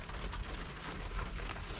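Rain falls steadily on the day of a wet drift event, a dense even hiss with no clear single drops, fairly faint and constant throughout.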